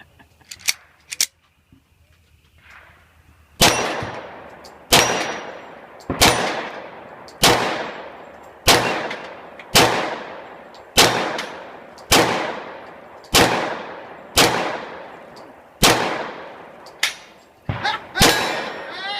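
Pistol gunshots crack out at an outdoor shooting pit: a couple of early shots, then a steady string of about a dozen sharp, loud reports roughly a second apart, each ringing out briefly before the next.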